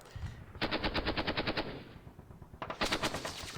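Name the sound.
artillery and gunfire in Panzer Campaigns Normandy 44 video game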